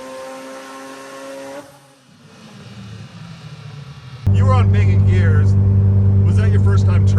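Rotary-engined Mazda RX7 on a track, its engine droning through the gears: a steady note, a brief dip around a shift, then a sudden loud, close surge of buzzing rotary roar.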